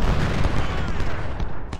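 Rapid, dense booming bursts of cannon fire in the video game Ultimate General: Civil War, loud and continuous throughout with a few sharper blasts.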